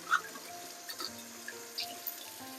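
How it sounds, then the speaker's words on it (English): Leeks being rinsed under a running kitchen tap, a steady moderate stream of water with faint splashes and small clicks as the stalks are handled. "we're just gonna wash the leeks them"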